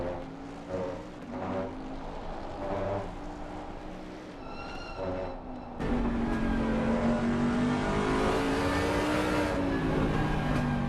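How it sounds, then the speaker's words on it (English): A Bentley GT3 race car on the Valencia circuit revs and downshifts, with engine pitch rising and falling in quick steps, then swells into a loud sustained drone as it accelerates. "trying to listen to those downshifts, or the sound of the Bentley in general"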